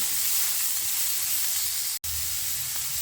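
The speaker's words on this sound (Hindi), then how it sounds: "बहुत थोड़ा सा मैं इसको सीजन करती हूँ ऑलिव ऑयल में सौते करके" Chickpeas sauté in olive oil with a steady, close sizzle and hiss that cuts out for an instant partway through, then resumes with a low rumble beneath.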